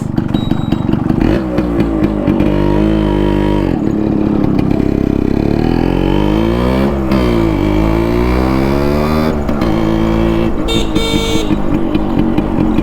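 A new Yamaha RX100 two-stroke motorcycle ridden on the road, its loud close engine revving up and down through repeated rising and falling pitch sweeps with clattery exhaust.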